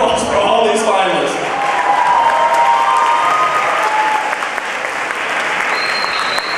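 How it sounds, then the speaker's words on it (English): An audience gives loud, sustained applause for contest finalists, a dense continuous roar of clapping lasting several seconds, with some voices and cheers mixed in. "give a big round of applause for all these finalists."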